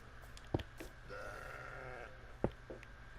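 Sheep in a video game bleat two short distinct times, a baby pink sheep among them, quiet and nearby over a faint background hum.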